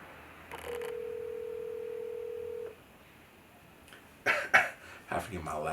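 A telephone call placed to a cousin, with a single long steady dial tone followed by a quick burst of keypad dialing beeps, faint and close, with no talking over it.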